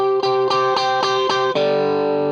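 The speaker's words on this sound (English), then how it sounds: "on that final measure, just start strumming straight down, eighth notes. Just use all down strums" Distorted electric guitar strummed in even down-stroke eighth notes, six crisp chord hits in a steady pulse before a final chord rings out, loud and close with effects-laden sustain.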